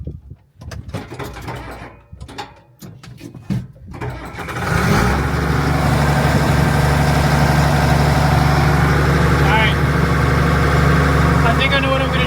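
A Case 2294 tractor engine that stalls when the clutch is pressed, heard after some brief clatter and handling noise as it fires up into a loud, steady, close running rumble that holds to the end.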